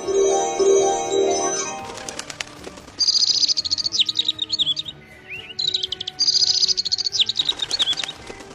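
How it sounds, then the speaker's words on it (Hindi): A bird attacking in an animated Hindi story, shrieking in rapid, shrill bursts of chirps with flapping in between, after a sustained droning tone. The sound is close and loud, with no voices. "अरे बदतमीज चिड़िया, तू मुझ पर हमला करने की कोशिश कर रही है।"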